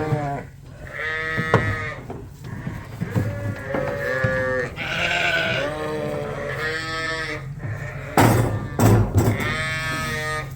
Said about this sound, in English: And now the ewes are just running up the ramp into the trailer to join their lambs.